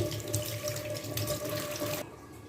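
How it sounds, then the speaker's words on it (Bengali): Mangoes washed under a running kitchen tap, a steady close splash of water that cuts off near the end, with no talk. "দেখুন আমগুলো আমি প্রথমেই ধুয়ে নিচ্ছি"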